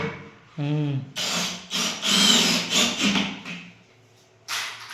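An electric cutter cuts through wood in several loud, rasping bursts separated by brief pauses, preceded by a short tonal sound.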